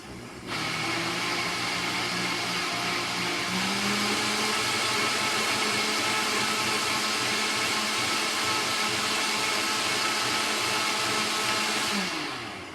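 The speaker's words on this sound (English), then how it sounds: "I'm going to buzz it up, and this is how I clean my blender" Kitchen blender whirring steadily for about twelve seconds with hot water and a few drops of liquid dish detergent inside, loud and continuous with a slight pitch shift midway, no voices.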